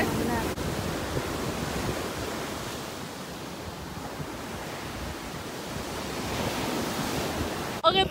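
Waves wash steadily onto a quiet, empty beach in a continuous broadband surge, with wind noise on the microphone and a brief knock near the end.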